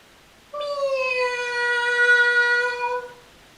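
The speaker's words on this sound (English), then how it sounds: "Sang the cats on the wall." Two or three cats yowl together in one long, drawn-out caterwaul lasting about two and a half seconds. The sound is close and loud, with a clear wavering pitch, and it comes from a garden wall at night with no talk over it.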